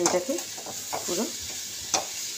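A cup of sugar sizzles and scrapes as it is fried and stirred in a pan until it melts for Ganesh Thakur modak. Close, soft stirring strokes come in uneven bursts over a faint crackle, and a voice says a word.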